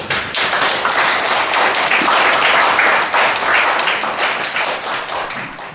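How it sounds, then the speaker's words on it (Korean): Sustained applause from an audience welcoming a local history researcher to a lecture in Goesan, Korea, a dense, even wash of many hands clapping, loud and close, fading slightly toward the end with no talking. "김근수 선생님을 큰 박수로 맞아주십시오."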